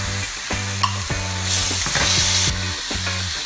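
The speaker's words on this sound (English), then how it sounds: "here it goes, it's going to sizzle nicely" Minute steaks sizzle in a hot frying pan with a steady crackle that swells briefly in the middle, while tonal sounds run underneath.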